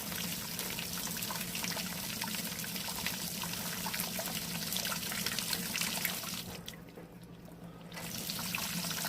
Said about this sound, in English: So put a little bit more water on there.